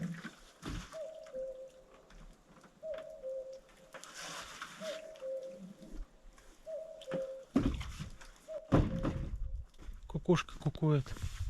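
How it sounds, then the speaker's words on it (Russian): A cuckoo calls repeatedly in a snowy forest as winter weather returns, each two-note descending call steady and moderately distant, followed by louder nearby rustling and other sounds toward the end. "Кукушка кукует."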